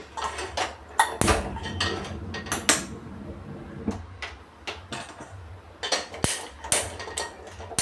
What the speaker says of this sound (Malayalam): കുക്കർ അടുപ്പത്ത് വെച്ച്